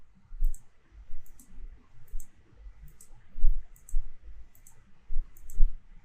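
Mouse button clicks in a presentation program, a steady series of sharp, close taps repeating about twice a second with no voices.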